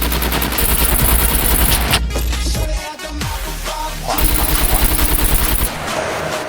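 Sustained automatic rifle fire from AKM and M1 weapons in the survival game SCUM, loud and close, with dense rapid bursts that pause briefly midway before resuming.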